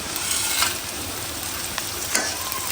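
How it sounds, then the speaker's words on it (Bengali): Onions fry in hot oil with bay leaf, black pepper, cinnamon and cardamom, giving a steady sizzle with a few sharp scrape-and-stir clicks of a spoon, close and moderately loud. "পেঁয়াজ ভাজার সাথে সাথে আমি এখানে তেজপাতা, গোলমরিচ, দারচিনি, এলাচ এগুলো হচ্ছে একবারে দিয়ে দিই"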